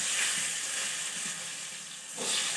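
Potatoes fry in hot oil with a steady, close, hissing sizzle that runs through the clip and swells slightly near the end.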